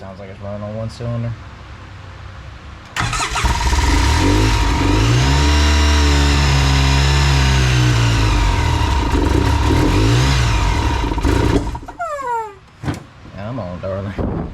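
A Polaris Ranger 800 utility vehicle engine, lifters not yet primed, runs roughly on one cylinder, a loud close uneven drone whose pitch wavers for several seconds before cutting off, with a voice briefly before and after.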